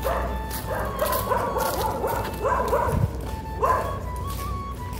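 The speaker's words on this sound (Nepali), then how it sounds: "सधैँ भुक्छ यो कुकुर सधैँ" A dog barks repeatedly at moderate distance, a series of sharp yips and bow-wows in quick bursts, with a pause before a final pair of barks.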